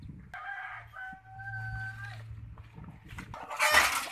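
A rooster crows one long drawn-out call on a farm kept with silkie chickens, turkeys, ducks and Kadaknath fowl, with low clucking beneath and a burst of noisy flapping at the end.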